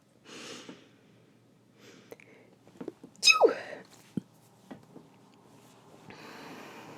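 A single sharp sneeze bursts out amid quiet breathing and faint rustling, close and sudden, followed by a soft exhale.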